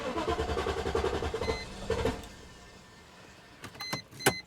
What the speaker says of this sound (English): we're going to give her a start